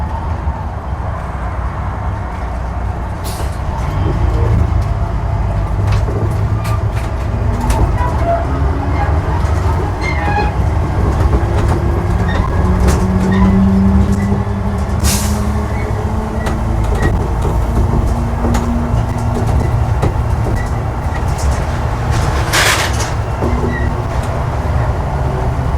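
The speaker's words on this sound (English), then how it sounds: "this bus is almost 30 years old and still running" An almost 30-year-old MAN A61 SG262 articulated bus runs steadily on a ride through Sofia, its engine and road rumble forming a continuous drone with rattles and clatter throughout, heard from inside.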